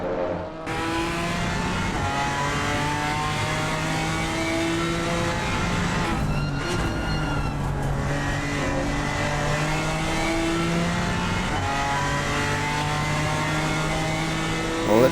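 GT race car engine in Assetto Corsa Competizione at Brands Hatch, loud and sustained, with rising and falling revs through gear changes and a brief passing burst midway, no talking.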